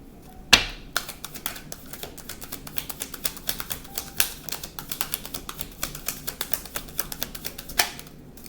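Tarot cards shuffled and drawn from a deck one at a time, a dense run of quick soft flicks and snaps close by, with a sharper slap near the start and no talking.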